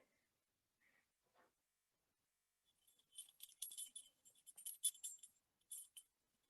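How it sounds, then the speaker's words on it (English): A bunch of keys jingling and clinking together in quiet, bright, irregular bursts of metallic tinkling that last a few seconds, after a couple of faint small taps and with no voices. "That is the sound of keys tinkling together."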